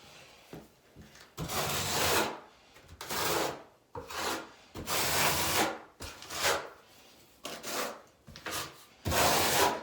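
A steel notched trowel spreads tile adhesive while a shower is being tiled, giving repeated rough scraping strokes in rhythmic bursts of about a second each, close and fairly loud, with short pauses between passes.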